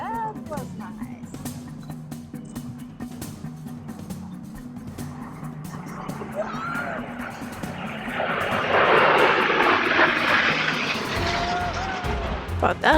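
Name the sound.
airplanes flying over at airshow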